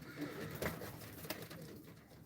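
Pigeons coo softly at a Turkish pigeon loft, with a couple of brief louder bursts of wing or body movement partway through and no talk over them.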